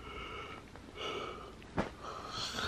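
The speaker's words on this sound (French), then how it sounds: "c'est la personne qui baille. Je viens de le faire devant vous." A woman yawns with a long breathy, wheezing inhale and a brief snort-like catch near the end, close and fairly quiet in an indoor room.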